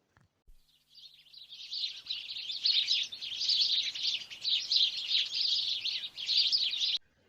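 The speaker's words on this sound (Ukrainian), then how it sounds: "Це у нас горобець." A sparrow chirps busily and steadily for several seconds, bright rapid notes close by, starting after a short silence and stopping abruptly.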